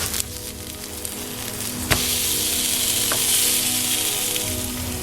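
Vegan black bean burger patties fry in a pan with no added oil, giving a steady close sizzle with a single sharp tap near the middle and a faint clink later, with no talking.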